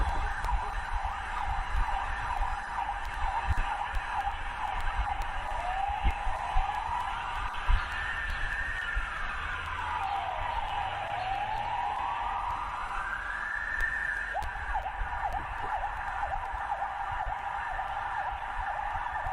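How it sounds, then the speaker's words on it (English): Air-raid sirens wail in long rising and falling sweeps across a steady city hum in Kyiv, Ukraine, sounding moderately distant and continuing throughout. "So the sirens you guys are hearing are coming out of Kiev."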